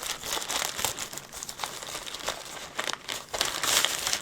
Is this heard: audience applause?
no